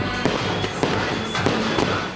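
New Year fireworks over Melbourne at a city celebration site, a rolling roar of distant bursts with about five sharper booming cracks spaced through the din.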